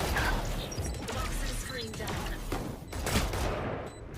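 Gunfire exchanges in a competitive Valorant-style esports match, scattered shots and trades crackling under ongoing game noise and commentary chatter.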